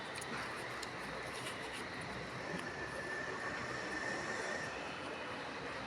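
A train rolls along railway tracks near Tirunelveli as a steady broad rumble and roar, continuous and fairly loud, with no voices.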